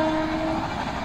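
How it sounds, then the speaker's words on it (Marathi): A 22-coach Konkan Railway train runs through Ram Ghat with a loud, steady rolling rumble and a sustained tonal whine, heard close and continuous. "बघूया तुम्ही कसं धावते बघा कोकण रेल्वे."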